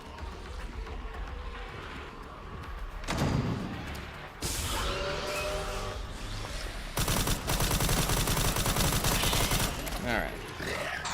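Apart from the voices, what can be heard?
rifle gunfire in the video game Resident Evil Requiem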